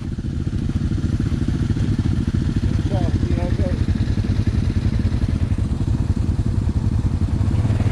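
An ATV in four-wheel drive and low gear crawls over an obstacle on a family trail ride, its engine droning in a loud, steady, close chug throughout, with voices talking over it.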